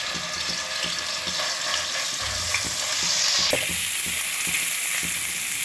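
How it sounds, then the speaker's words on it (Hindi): Garlic paste fries in a pan for spaghetti with vegetables, sizzling steadily and loudly while a utensil stirs and scrapes with regular knocks throughout. "चलें जी इसको मैं थोड़ा सा भूनूंगी, इसका कच्चापन ख़त्म होने तक।"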